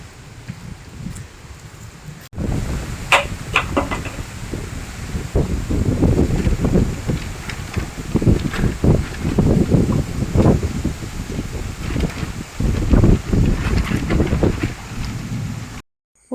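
Strong gusty wind roars and buffets the microphone loudly for most of the stretch, swelling and easing in waves before cutting off abruptly at the end.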